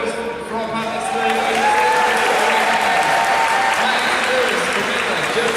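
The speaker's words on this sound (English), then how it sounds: "everyone let's give a round of applause from Wrottesley" An audience at a Q&A panel for a digital drama series gives a dense, loud, continuous round of applause with some cheering, as the panel leaves the stage, and the crowd noise washes over everything.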